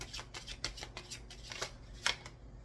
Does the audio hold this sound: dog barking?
no